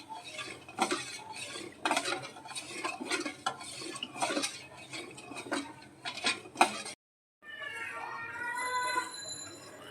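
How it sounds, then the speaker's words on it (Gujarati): A spoon stirs sugar syrup in a pan over a low flame while making tapkir halvo, giving repeated close scraping strokes against the metal, then a brief silence before fainter clinks and a thin ringing tone. "ખાંડને ઓગળે ત્યાં સુધી ચમચો ફેરવતો રહેવો"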